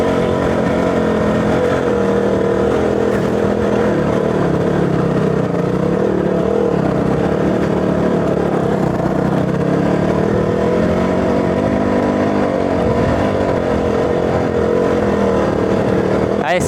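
A motorcycle engine drones loud and close without pause as the rider climbs an off-road trail in Idukki, the tyre slipping and spinning on the rough ground; the revving stays sustained and heavy throughout.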